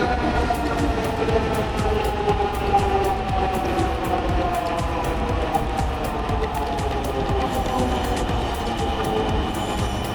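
A Dhaka metro train runs with a continuous loud rumble and rhythmic clatter, its motor whine shifting in pitch, steady throughout.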